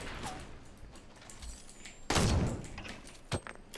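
A pump shotgun fires once in the Fortnite video game, a loud sharp blast near the middle followed by a shorter crack, over quiet game ambience.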